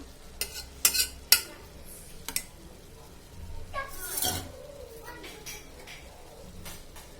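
A sweetcorn snack mixture is stirred in a pan, giving scattered scraping and clinking strokes with a few sharper knocks, fairly faint and irregular.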